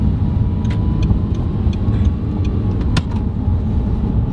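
A supercar engine climbing a slope, heard as a loud, steady low rumble close inside the car, with faint ticking clicks scattered over it and no talk.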